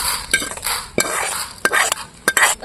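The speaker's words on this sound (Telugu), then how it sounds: "కడాయిలోనే దినాలు అయితే వేపుకోవాలి" Lentils fry in a kadai as they are stirred, a close, loud hiss of hot oil broken by repeated sharp scrapes and clinks of the spoon against the pan.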